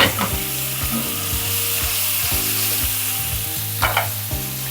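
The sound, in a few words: steak sizzling in a pan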